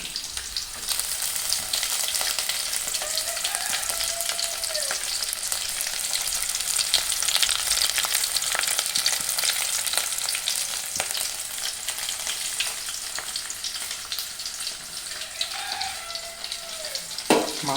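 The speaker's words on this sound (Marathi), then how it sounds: "कढीपत्ता फोडणीला टाकायचा." Curry leaves sizzle in hot oil for a tempering in a Malvani kitchen, giving a loud, continuous crackling fry. Two brief voices and a clink cut in over the sizzle.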